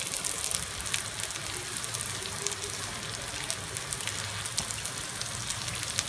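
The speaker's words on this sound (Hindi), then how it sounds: "ये देखिए हमारे कबाब कितनी अच्छी तरह से फ्राई हो रहे हैं।" Veg kebabs fry in a pan with a steady, dense sizzle and crackle of oil that runs evenly throughout, with no speech.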